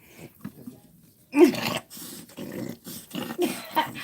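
A puppy makes low growling and whimpering noises in short bursts, close and fairly quiet, with soft breathing between.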